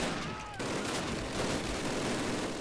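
Machine gun fire in the first Call of Duty campaign, a dense rattle of rapid shots and battle noise that runs on after a brief quieter opening, with voices faintly mixed in.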